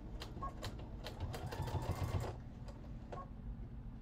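A sewing machine laboring through a thick seam on an upcycled thrifted vest, a whirring run with rapid needle thumps, fading to scattered clicks as it slows; no talking.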